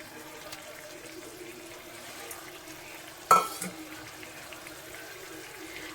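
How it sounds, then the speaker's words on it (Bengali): Chela fish tipped into a pan of simmering water for a fish curry: a sudden loud splash and slosh around the midpoint, settling back to a low bubbling simmer. "এবার কিন্তু আমি মাছটা ঢেলে দিচ্ছি"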